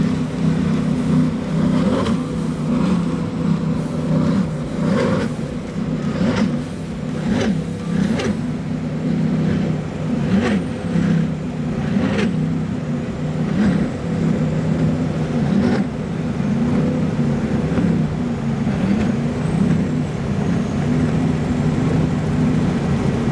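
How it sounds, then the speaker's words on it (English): A 46-foot Skater powerboat with twin Mercury Racing 1350 engines, Dave Peterson at the helm during the Key West poker run, roars at a steady, loud drone with deep engine rumble and rushing wind and water, no talk. "this is an incredible machine powered by Mercury Racing 1350s"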